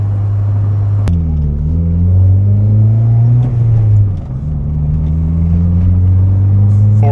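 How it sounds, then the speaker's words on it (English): A boosted, untuned Honda Civic on test Y8 injectors revs hard, its engine note climbing steadily toward redline, dipping briefly and rising again, loud and close from inside the car with no talk over it. "I don't think it misfired back there. I just redlined it."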